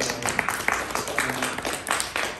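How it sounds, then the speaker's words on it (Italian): An audience applauding at an art presentation, with dense, mid-level clapping that swells and fades unevenly across a short span. "un applauso"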